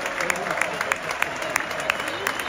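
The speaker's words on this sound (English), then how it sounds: "Chelsea fans are clapping the Fulham substitute." A video game football stadium crowd in a London derby claps in rhythm for a substitute, a steady run of regular claps over a constant crowd murmur.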